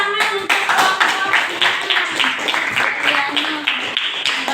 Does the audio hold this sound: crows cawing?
no